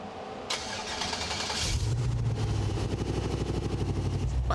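A Jeep off-road vehicle fitted out as a custom 4x4 build cranks briefly, then its engine catches and settles into a loud, steady, throbbing idle close by, with no talk over it.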